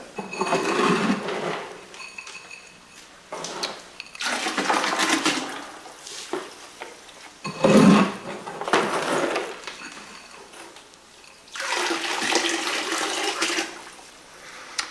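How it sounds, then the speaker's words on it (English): Pulverized clay is scooped into a container of water, producing bursts of splashing, sloshing and pouring that come and go in several separate waves, close and fairly loud, with no voices. "There, we've added the clay, the pulverized clay to the water."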